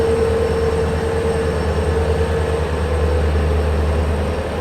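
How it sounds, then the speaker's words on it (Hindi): The Ajmer Amritsar Express, hauled by a diesel locomotive, rumbles past close by in cold, rainy weather, giving a steady, loud roar of rolling wheels and engine drone with a sustained tonal whine and no talking. "सामने आज की है अजमेर अमृतसर एक्सप्रेस"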